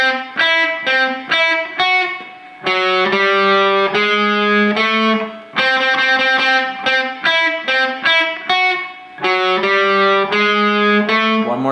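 Distorted electric guitar plays the closing phrase of a solo, a repeating melodic line of sustained bent notes and quick runs, loud and alone with no talking.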